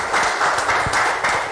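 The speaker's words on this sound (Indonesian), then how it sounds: "tepuk tangan untuk Mas Heri" A group applauds for Mas Heri at a gathering, a short, loud burst of dense clapping close by, steady for about a second and a half.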